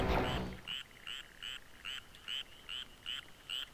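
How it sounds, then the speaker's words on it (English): A bullfrog croaking in a Doom video game level gives a regular series of short, evenly spaced croaks, about eight in a row, clear and alone after a brief louder noise at the start. "Got some, I don't know, bullfrogs or something? Yeah, there's a bullfrog."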